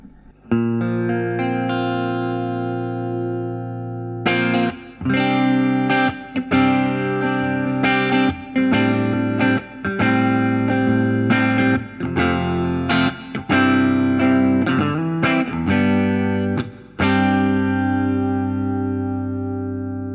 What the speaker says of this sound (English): just straight through the amp with a little bit of reverb on, and this is a plate reverb setting